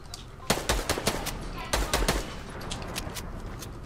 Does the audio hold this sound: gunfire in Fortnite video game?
yes